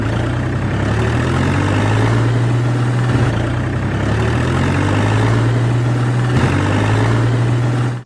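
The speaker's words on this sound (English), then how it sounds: "Wow, this is a John Deere tractor." A cartoon John Deere tractor engine drones loudly and steadily, with a low idling hum that rises and falls in repeated cycles, running alone without talk.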